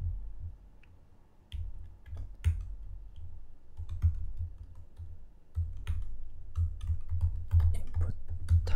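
Computer keyboard typing while writing HTML code, steady clusters of close, crisp key clicks with short pauses, moderately loud and alone without talk.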